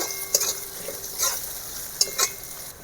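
Chopped onions frying in hot oil with whole cumin, whole garam masala and sugar, a steady sizzle punctuated by several distinct scraping stirs of a spatula against the pan.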